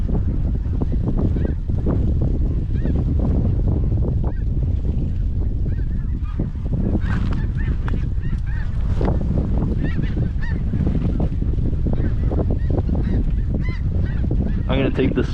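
A flock of specklebelly geese and snow geese honks continuously, loud and dense, in a snowstorm. Many overlapping calls come from near and far over wind noise.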